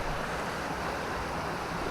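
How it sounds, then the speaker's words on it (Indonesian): A river flowing beside a mountain trail on the way down from the summit, a steady broadband rush of water that runs evenly throughout, fairly close and with no talking. "Kita sekarang menyusuri sungai."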